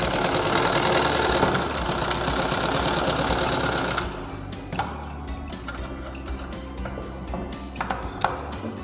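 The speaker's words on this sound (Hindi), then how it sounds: "इसको मिलाते हुए यहाँ तक ला के सिलाई कर लेंगे" Sewing machine stitching a border strip onto a blouse, a steady rapid whirring run for about four seconds, then stopping into scattered clicks and light handling noises, close and fairly loud with no talk.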